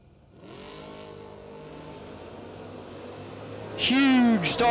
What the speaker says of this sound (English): Huge starting line advantage to Joe Bob Foley, and he turns it into a win light.